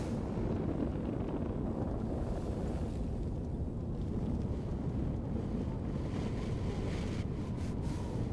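Wind blowing across an alien planet in the space exploration game Astroneer, a loud, steady, dense rush of low roaring gusts that fills the whole stretch with no talking.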